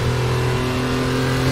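Porsche 911 Carrera Cup engine in the RaceRoom racing simulator holds a steady loud droning rev from the cockpit, a continuous buzzing tone with no talk.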